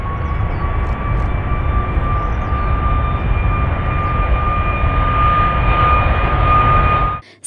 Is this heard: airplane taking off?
yes